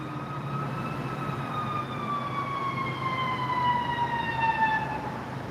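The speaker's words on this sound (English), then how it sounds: "It's an ambulance coming right here to this building." An ambulance siren wails in long, slowly falling tones, fairly loud and steady as it approaches a building, with no talk over it.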